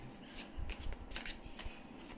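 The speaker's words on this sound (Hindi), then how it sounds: "सो सारे कार्ड्स मैं एक साथ लगाऊंगी" Tarot cards are shuffled by hand at close range, a quick run of crisp riffling slaps and flutters with no talking.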